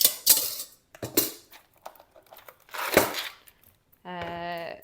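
A pot and metal tongs are handled while packing sausages for a barbecue. Quiet knocks and clatters come in short bursts, then a ringing metallic clang ends the sequence.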